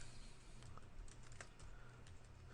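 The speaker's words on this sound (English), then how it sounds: "And so I'm going to type employee payroll." Quiet, rapid clicks of a computer keyboard as a short phrase is typed into an Excel spreadsheet, irregular keystrokes close to the microphone with no talk.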